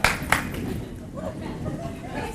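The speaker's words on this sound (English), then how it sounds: "Give yourself a round of applause." Brief applause from participants at a lunch-and-learn squat workout, a couple of sharp claps followed by a thin, light patter of clapping in a room.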